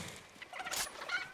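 A chicken clucks and squawks in Fortnite, a couple of short, faint, scratchy bursts close together with no talking over them.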